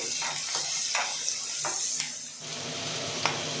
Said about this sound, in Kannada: ಸ್ವಲ್ಪ ಬೆಳ್ಳುಳ್ಳಿ ಜಜ್ಜಿರೋದು ಸ್ವಲ್ಪ ಕರಿಬೇವು ಇದು ಸ್ವಲ್ಪ ಫ್ರೈ ಆಗಲಿ